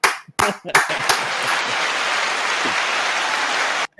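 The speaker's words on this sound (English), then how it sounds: "Brother, once again, big round of applause." Applause for a fighter at a boxing fight-preview event, a dense burst of clapping that starts with a few separate claps and then holds steady and loud for several seconds before cutting off.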